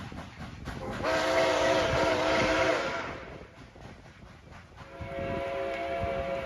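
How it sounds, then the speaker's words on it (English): The steam whistle of locomotive 765 pulling an excursion train sounds two long blasts, the first louder and fuller, the second after a brief lull, over the rumble of the rails. "Whistle's blowing. It's about to come."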